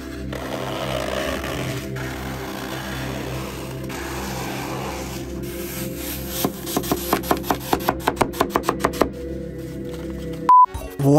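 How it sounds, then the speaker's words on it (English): A foam block is rubbed and squeezed, giving a steady squeaky scraping texture that turns into a quick run of rhythmic creaking squeaks before a brief pause and a final burst. "This is a foam block, and it can create some really satisfying noises like this."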